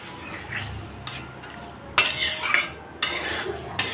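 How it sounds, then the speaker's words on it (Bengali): A spoon stirs cauliflower and potato curry with spices in a pan, scraping and clanking against the metal in several sharp strokes with quieter frying in between, close and without voices. "মশলার সাথে ফুলকপি আলু কষিয়ে নিলাম, এখন দিয়ে দিচ্ছি।"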